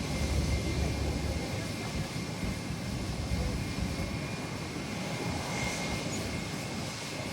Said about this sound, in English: Next up right here is JetBlue flight 1754 heading to Fort Lauderdale on A321